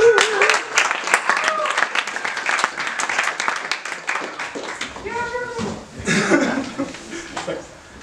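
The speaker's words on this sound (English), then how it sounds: "Cheer and clap if you understand what I'm saying." A hackathon audience cheers and claps, with lively applause, whoops and scattered laughter and voices mixed in, close and fairly loud throughout.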